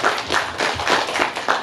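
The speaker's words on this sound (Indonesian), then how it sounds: "Tepuk tangan untuk Pak Joko Heru." Audience in an Indonesian cultural gathering in Pekalongan claps for Pak Joko Heru, a cultural figure, in a short burst of scattered hand claps at close-to-mid distance.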